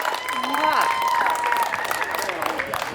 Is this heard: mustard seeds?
no